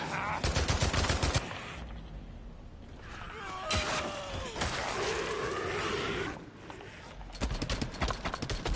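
Gunfire in the video game Days Gone while shooting at enemies at close range, rapid bursts of shots at the start and end with game sounds and effects in between.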